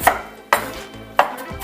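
A knife slices through fresh ginger on a cutting board in three sharp, evenly spaced chops, each a crisp thud close by, with no voices.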